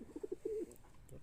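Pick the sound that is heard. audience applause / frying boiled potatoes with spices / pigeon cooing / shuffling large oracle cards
pigeon cooing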